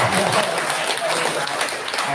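A church congregation claps together during a Taiwanese-language Sunday service, a steady wash of applause for a newly arrived sister that holds for about two seconds, with voices mixed in underneath.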